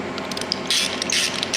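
Ratchet clicking in quick bursts while snugging the bolts on the differential cover of a 1994 Toyota 4Runner during a 14-bolt carrier swap, close and fairly loud with no talk.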